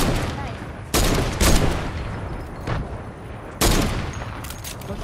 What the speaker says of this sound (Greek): Κάπου με πυροβολάει άλλος.